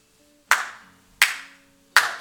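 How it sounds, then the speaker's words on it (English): Three single hand claps ring out sharply at even intervals, each loud and close with a short decaying tail, heard alone. "claps his hands."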